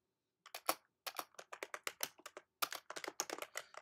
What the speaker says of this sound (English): So I'm just typing this one, third changes,